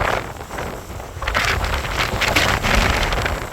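Strong night wind buffets the microphone near a small off-grid wind turbine, a loud, continuous rushing roar that swells and gusts throughout with no voices.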